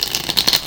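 Tarot cards being shuffled by hand, a brief close flurry of papery riffling and light rattling, with no talk.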